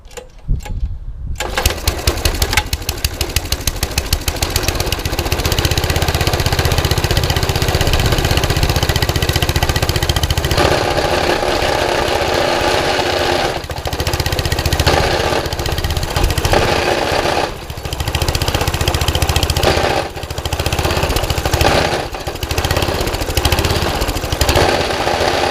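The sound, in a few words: trash-picked petrol lawn mower engine running, blades turning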